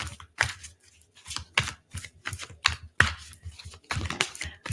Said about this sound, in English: I'm shuffling off camera, but I like to take jumpers, and those are cards that just come out as I shuffle